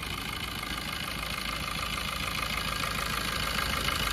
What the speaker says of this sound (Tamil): இந்த இன்ஜின் இன்னும் ஓடும்